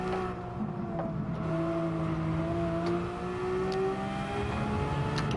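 A race car in Gran Turismo 7 drives with a high engine whine that climbs and shifts pitch through the gears, sustained and fairly close, with faint tyre and track noise underneath.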